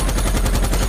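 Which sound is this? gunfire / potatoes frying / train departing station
gunfire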